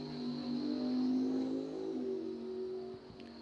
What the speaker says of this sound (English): Two-second handicap head start for the Mustang. And then Lewis is going to have to try to chase him down